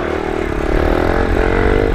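Pit bike engine running loud and close on an off-road trail, a steady buzzing drone with rising revs and slight pitch shifts throughout.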